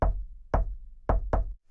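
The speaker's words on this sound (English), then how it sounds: "Mozart Mouse heard someone knocking on the door." Four firm knocks on a wooden door, close and dry: one rap, a pause, then a second, and finally a quick pair.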